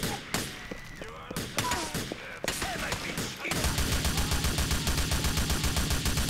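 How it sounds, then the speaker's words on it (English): Gunfire in Grand Theft Auto IV: scattered shots and impacts at first, then a continuous rapid barrage of automatic fire, loud and dense, with someone briefly talking. "Who's shooting at me?"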